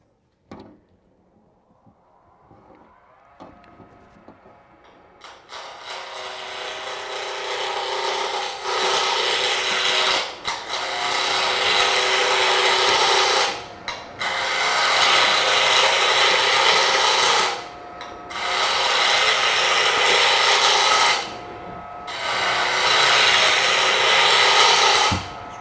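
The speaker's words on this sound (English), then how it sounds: "The tool I'm using is just a regular scraper, a roughing tool. It's carbide." A carbide scraper roughing tool cuts wood in long abrasive rasping passes, loud and close, with several strokes separated by brief pauses after a quiet start.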